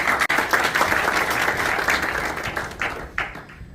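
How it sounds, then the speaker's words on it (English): A forum audience at an Africa Day trade and investment gathering applauds warmly, a dense, even wash of clapping that holds steady for a few seconds and then thins out. "Please give him a big round of applause"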